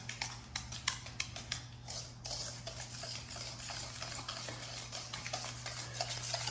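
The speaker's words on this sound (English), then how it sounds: "You whisk it, all the wet ingredients." Wet ingredients are whisked in a bowl, producing a quick, rhythmic series of close, faint scraping clicks over a steady low hum.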